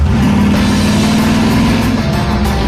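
A rear-engine Mazda mini truck races on a track while chasing a Corvette, its engine a loud, close, continuous droning roar that holds steady throughout.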